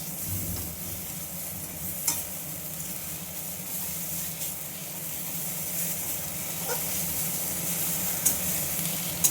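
Leaf paste being stirred in a wok as it cooks down, a steady scraping and soft sizzle running throughout with a few sharper clinks of the spatula, close and continuous.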